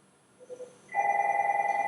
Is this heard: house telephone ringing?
yes